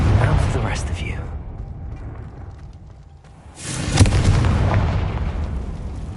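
Confringo blasting spells in Hogwarts Legacy go off as heavy explosive booms, one loud blast at the start and another at about four seconds, each trailing into a rumbling decay, with a character's voice heard during the action.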